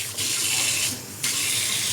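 Water from a tap runs steadily into a blender while banana fritters for Malaysian cekodok pisang are being prepared, a loud continuous splashing stream that briefly thins before resuming.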